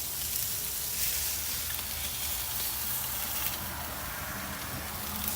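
Beef ribeye steaks sizzle steadily on an Assassin 72 grill, a dense, even hiss and crackle of fat and flame that stays loud and unbroken with no talking.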